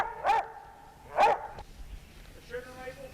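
A hunting dog barks during a squirrel hunt in woods, two loud distinct barks about a second apart, followed by quieter background sounds.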